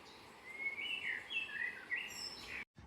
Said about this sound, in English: Just taking a moment to listen to that bird song.